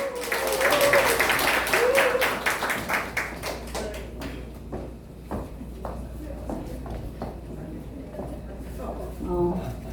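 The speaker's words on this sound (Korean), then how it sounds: "박수 한번 주십시오." Audience clapping at a Korean poetry collection launch in an art hall, loud at first with a dense burst of claps, then thinning to scattered individual claps while a voice speaks over them.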